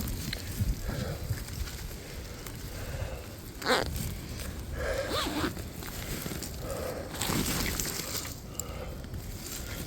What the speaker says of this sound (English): I can't get it to zip.